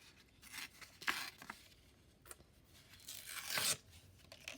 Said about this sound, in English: I'm going to actually rip it.